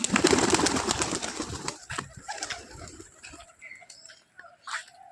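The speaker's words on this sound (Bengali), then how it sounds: "ওই পায়রাটা বামে নেমেছে বলতে গেলে, যেখানটায় যেটা নিচে ছিল" Pigeons land with a burst of fluttering wings, followed by soft, scattered cooing that grows sparser as things settle.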